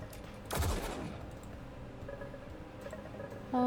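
A weapon fires in the Echoes Lucid9 fangame: a single loud, sharp burst of gunfire near the start, followed by quieter ticking game effects and a chime at the end.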